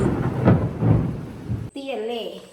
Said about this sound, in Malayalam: നല്ല ഇടിവെട്ടും നല്ല മിന്നലും